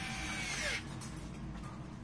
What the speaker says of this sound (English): Listen for the clicks on the drill as it stops turning.